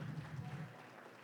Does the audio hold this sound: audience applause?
yes